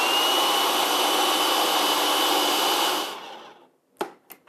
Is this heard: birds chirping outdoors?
no